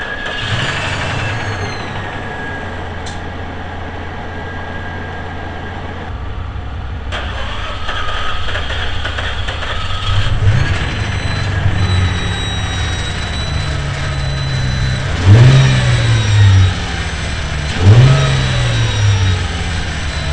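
Nissan G35 engine after a jump start from a dead battery: a steady idle that catches and settles, then two sharp revs rising and falling near the end, loud and close.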